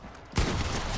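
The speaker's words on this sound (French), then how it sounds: "Là, je fais un tir" A single Fortnite gunshot, a sudden sharp blast that jumps out of quiet game ambience and rings on with a broad, noisy tail, close and loud, with no talking.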